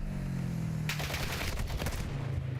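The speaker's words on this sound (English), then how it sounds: "Taking effective fire." Automatic gunfire in Black Ops 6 multiplayer, a loud burst of rapid shots lasting about a second, with an engine-like hum before and after.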